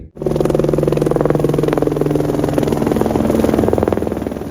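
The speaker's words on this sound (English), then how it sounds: "There's a chopper right there, see it? It's flying right over us." A helicopter passes directly overhead on a Sedona red rock hiking trail, its loud, steady rotor thump and turbine drone filling the scene throughout, with no talking.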